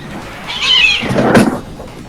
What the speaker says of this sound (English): I had cats outside my apartment window. Apparently fighting with each other.